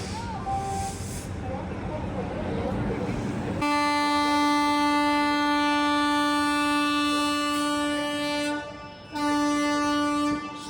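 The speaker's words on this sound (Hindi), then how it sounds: "सुना आपने हॉर्न? ये है सियालदा राजधानी एक्सप्रेस का हॉन्क" A loud, sustained multi-tone horn of the Sealdah Rajdhani Express blares close by over rumbling rail noise, with a brief break before sounding again.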